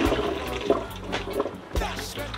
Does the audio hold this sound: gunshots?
no